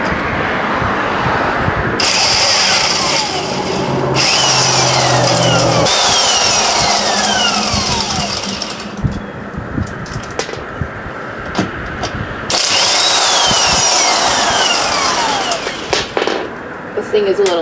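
Cheap Harbor Freight power tool working on a Honda CR-V rear wheel during a brake job: loud whirring bursts that spin up and cut off repeatedly with rattling, close by, with someone talking intermittently throughout.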